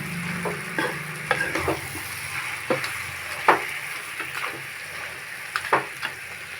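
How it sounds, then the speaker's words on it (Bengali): Sugar stirred without pause in a pan for Bengali amra (hog plum) pickle, giving a steady soft sizzle with repeated scraping strokes of the spoon, close and moderately quiet. "এখন অনবরত নাড়তে হবে, না হলে তলায় ধরে যাবে"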